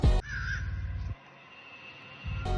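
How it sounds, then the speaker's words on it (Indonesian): Crows cawing loudly in a short burst that breaks off into near quiet, then starts again. "tahu tuh lagi digarotin aja sama burung gagak"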